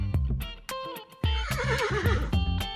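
A small horse gives one wavering whinny in the middle of a short stretch of cheerful music with punchy percussive knocks, set against a children's backing track.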